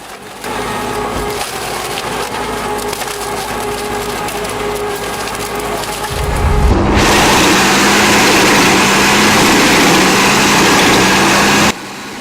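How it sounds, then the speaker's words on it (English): A large wood chipper with an automated hydraulic feed runs near and loud, its engine droning steadily before it bites into wood, shifting to a heavier crushing roar that cuts off abruptly near the end. "The Muse Max redefines raw power with its fully automated hydraulic feeding system."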